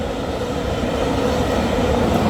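A VIA Rail passenger train, number 647 out of Ottawa, Ontario, rolls past at night, a steady loud rumble of wheels and railcars that stays constant through the whole stretch with no talking.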